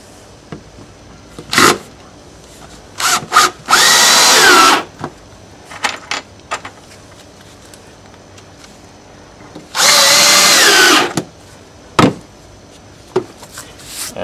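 A power drill drives screws into a wooden joist in two loud, sustained bursts of about a second each, separated by quieter tool handling and scattered knocks in a workshop setting.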